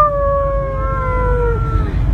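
A person imitates a wolf howl: one long, clear, tuneful tone that glides slowly downward and holds for about two seconds, loud and close with no other voices.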